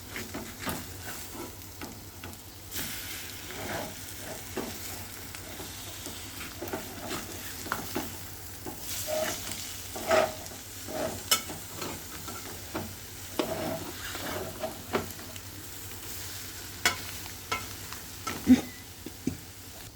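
Egg curry pieces sizzle softly in a pan while being turned one by one, a low steady frying hiss broken by scattered scraping and tapping of the spoon against the pan.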